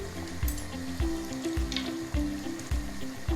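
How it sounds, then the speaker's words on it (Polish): Oponki ring doughnuts frying in hot oil: a soft, steady sizzle and bubbling close up, with a few light clinks and splashes as the doughnuts are handled, quiet and without talk. "Tak naprawdę cały proces robienia oponek to najdłużej trwa ich smażenie."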